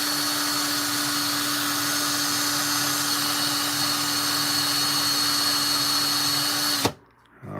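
A power tool sands a ring with 1000 grit abrasive: a loud, steady whine with a sustained tone runs continuously, then cuts off abruptly near the end, leaving near silence.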